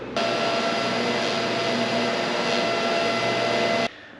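Welding on a truck frame during a coupe-to-pickup cab chassis swap: a continuous, loud, steady hiss with a faint hum lasts about four seconds, then cuts off abruptly.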